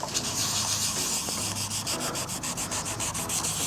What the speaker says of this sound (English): we're going to do a little wet sanding